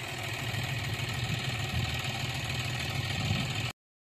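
Steady low diesel rumble of a JCB excavator levelling a dirt road, a constant engine drone with faint knocking, mid-distance and even, cutting off abruptly near the end.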